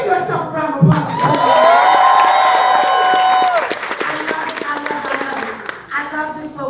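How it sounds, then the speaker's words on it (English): A crowd bursts into loud applause and cheering, with whoops and shouting over steady clapping that gradually tapers off. "Give yourself a round of applause."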